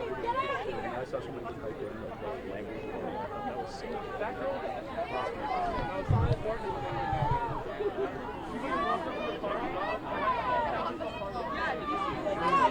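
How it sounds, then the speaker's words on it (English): A large crowd of students gathers at a night protest over sexual assault allegations at Syracuse, a steady murmur of overlapping voices and chatter filling the scene at moderate distance, with a brief low thump partway through. "This is, again, a large crowd of students."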